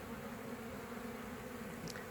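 Honeybees buzz outside their beehives in a dense, continuous drone that stays steady and close throughout, with no voices.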